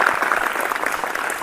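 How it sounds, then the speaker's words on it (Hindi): Children clap together to welcome a guest at a school, a short burst of dense, steady applause filling the room with a faint murmur underneath. "एक बार ताली बजा करके आपका स्वागत करें।"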